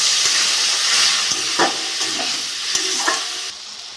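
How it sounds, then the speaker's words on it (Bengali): A spiced masala with tomato and a splash of water sizzles and hisses in a pan while a spoon scrapes and stirs it in several brief, close strokes. "মশলাটা কষে নেবো, আমি একটু জল দিয়ে দেবো।"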